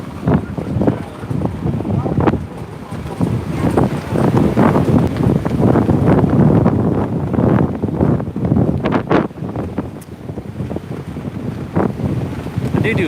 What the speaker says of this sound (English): Step out of the wind here for a second.